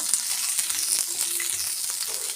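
Chukka leaves fry in a hot pan with a steady, close sizzle and hiss that carries on throughout, with faint stirring touches underneath.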